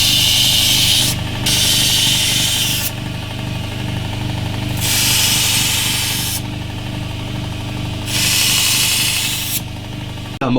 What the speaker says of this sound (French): On vient frotter donc sur la meule